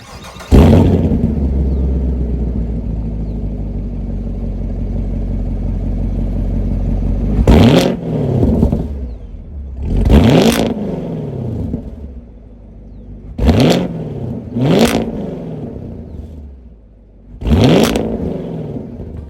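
A Chevy Camaro LT1's 6.2-liter pushrod V8 with performance exhaust fires up with a deep rumble, idles steadily, then barks through several sharp, loud revs with a throaty exhaust growl.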